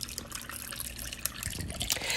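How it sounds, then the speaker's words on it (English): Ginger pineapple lemonade, garnished with pineapple pieces and lemon slices, pours into a glass in a steady trickling splash that swells slightly toward the end. "and now I'm ready to pour."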